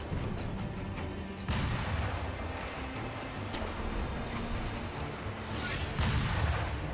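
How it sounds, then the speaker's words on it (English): In the video game Sekiro, gunfire booms out in repeated heavy bursts over a dense, rumbling battle ambience, several shots landing close and loud across the stretch. "They're like sniping me!"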